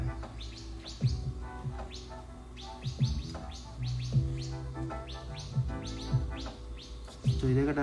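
Small birds chirp and tweet in a quick, busy chorus, with short high calls repeating throughout over a low background hum, fairly close and moderately loud, with no talking.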